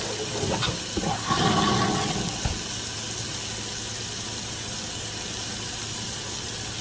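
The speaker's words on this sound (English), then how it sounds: "Just wash my hands." Tap water runs steadily while hands are washed under it, a constant hissing stream with brief louder splashing early on before settling into an even flow.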